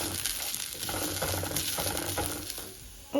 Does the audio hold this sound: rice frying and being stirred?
yes